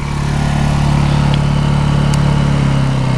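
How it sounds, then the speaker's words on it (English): A Honda EU2000i portable generator runs steadily at full throttle with an even, continuous hum at moderate volume. The tone stays constant throughout, and no one speaks. "It's really not too loud of a generator compared to others."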